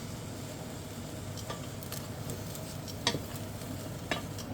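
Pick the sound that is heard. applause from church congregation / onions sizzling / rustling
onions sizzling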